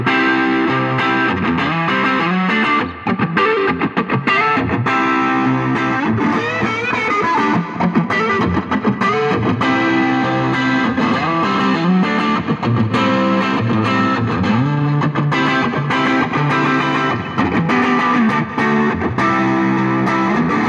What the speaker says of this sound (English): It's a 1964 Fender Stratocaster in Candy Apple Red. We're also going through the 1966 Fender Pro Reverb.